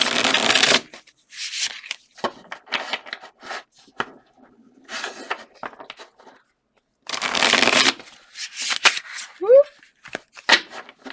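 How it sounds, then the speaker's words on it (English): Tarot cards being shuffled in several bursts of crisp riffling and flicking, separated by quieter pauses with soft handling noises, close up. "we're going to shuffle up our main cat tarot here now"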